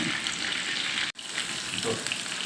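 Steady, close sizzling of sea bass frying in hot oil in a pan, continuous crackle throughout with a brief dip near the middle.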